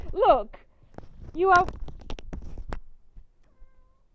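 A pet house cat lets out two short, close meows, then quieter rustling and thumps follow while a person speaks nearby.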